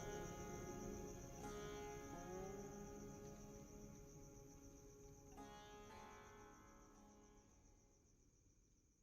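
Crickets chirp at night after a stormy evening in a Bengali animated horror story: a steady high trill runs throughout, with soft sustained musical tones beneath it, gradually fading toward the end.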